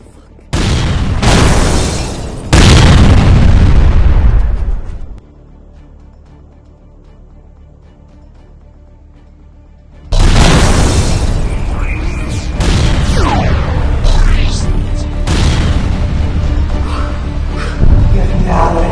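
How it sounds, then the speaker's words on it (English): A loud explosive boom that roars and fades, then silence before a second heavy blast and rumbling, cracking noise continue strongly. "It's like an explosion."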